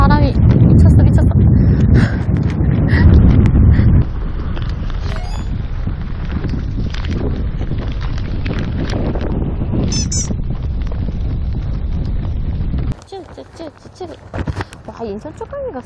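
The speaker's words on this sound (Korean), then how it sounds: "와 바람이 미쳤어" Strong wind buffets a fishing boat out after webfoot octopus off Incheon, a loud, steady roar with rumbling gusts under voices talking, dropping sharply quieter near the end.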